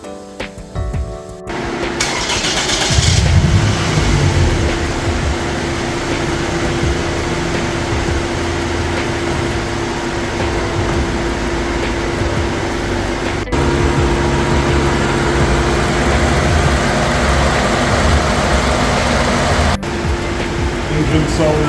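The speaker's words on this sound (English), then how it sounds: "The engine installation is completed. Now to give it a start." A Toyota Alphard taxi engine, freshly replaced, starts up and settles into a steady idle with a low hum and broadband whir, continuous and fairly loud from start to finish with no voices.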